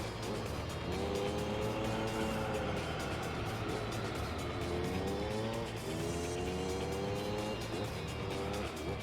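Race car engine in Gran Turismo 3, an LMP-class car, whines steadily at high revs with rising and falling pitch through gear changes and corners, a continuous moderately loud drone with no voices.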